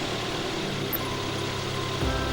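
A Toyota engine idles steadily at close range during fuel pressure regulator checks, a continuous low hum with a slight shift near the end.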